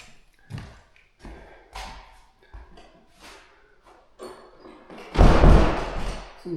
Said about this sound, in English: Just make sure I lock all the doors on the way.